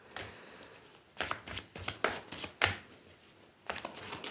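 A deck of tarot cards is shuffled close by, in quick papery riffles and flutters that come in bursts, pause, then resume, with no talking.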